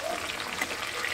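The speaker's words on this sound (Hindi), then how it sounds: "ऐसे दोनों तरफ से मछलियाँ फ्राई करेंगे" Fish frying in a pan for a desi-style fish curry, a steady bright sizzle and crackle of hot oil close by, continuous across the short moment with no clear speech.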